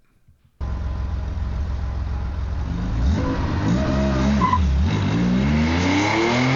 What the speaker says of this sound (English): we got the little gears shifting and we got some tire squeal